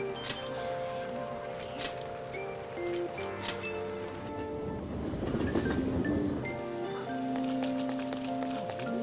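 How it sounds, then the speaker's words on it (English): Steady rain in Persona 5 Royal, a soft pattering wash running throughout under game music, with occasional light clinks and a swelling surge midway. "I don't like all this rain."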